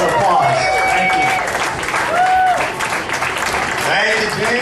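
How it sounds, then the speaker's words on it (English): Applause and crowd noise greet a comedy MC at an open meeting in a cantina, a loud continuous clatter of clapping with whoops and voices rising over it. "Please give a big round of applause."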